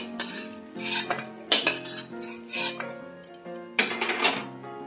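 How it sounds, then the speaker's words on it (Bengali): Fried lentil dumplings (bori) are lifted onto a metal plate, giving a series of sharp metallic clinks and scrapes of a utensil against the plate, close and fairly quiet, with brief pauses between them. "বড়িটা তুলে নিচ্ছি থালাতে"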